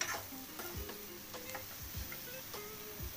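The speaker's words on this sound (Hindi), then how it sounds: "इसको थोड़ा मिक्स कर देंगे मसाले को।" A spoon stirs spices into pumpkin curry in a pan, giving soft rhythmic scrapes about twice a second over a faint, steady sizzle of frying.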